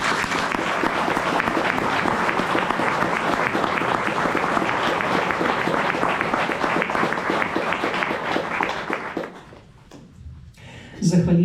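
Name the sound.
applause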